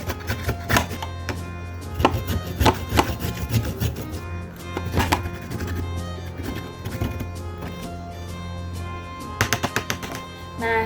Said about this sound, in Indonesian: Di sini ada parutan dan kita parut ke sebuah wadah.